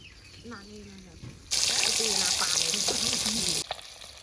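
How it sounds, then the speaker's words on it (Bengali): Baata fish frying in a pan: a loud, steady sizzle bursts in midway and holds for about two seconds before cutting back to quieter kitchen clatter, with a woman's speech-like voice nearby. "ওই পাশে মাছগুলো ততক্ষণ ভাজা হতে থাক"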